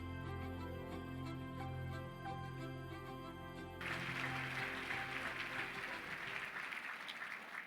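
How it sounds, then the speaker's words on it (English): Audience applause at the Orange County Community Foundation annual meeting breaks out about halfway through, after a steady tonal music bed, then continues as a dense, sustained clapping wash to the end. "I heard the applause, so let's just take a moment for that."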